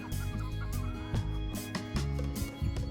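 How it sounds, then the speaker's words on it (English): Baby chicks clucking and cheeping, several close, soft calls repeating in quick bursts, with no talking. "get the new baby chicks out of the garage"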